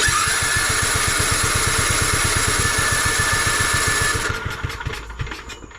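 An old, rare tractor engine that has sat for 26 years cranks over and over while flooding, giving a fast, even chugging beat that sputters and fades at the end.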